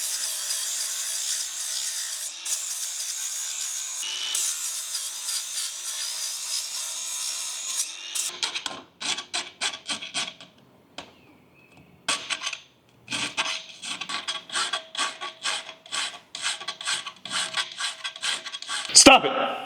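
A metal file rasps steel in a blacksmith's shop, first a continuous scraping hiss, then a run of separate push strokes in a quick rhythm, close and fairly loud.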